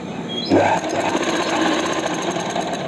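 Sewing machine stitching elastic onto plazo pants, running in a steady continuous whir with a rapid needle rhythm throughout, close and loud with no talk.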